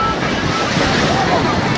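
Surf at a beach in Havana, Cuba, rolls as a loud, continuous wash of waves, heavily mixed with wind buffeting the microphone.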